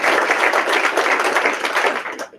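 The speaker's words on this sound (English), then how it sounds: "Round of applause." An office audience applauds at a live company meeting, a dense, even burst of clapping from many hands that holds for about two seconds and then tapers off quickly.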